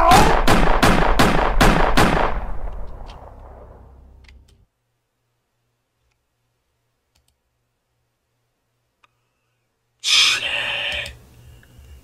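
Five rapid, sharp gunshots crack close together at the start and echo away, followed by silence and then a later loud burst of noise.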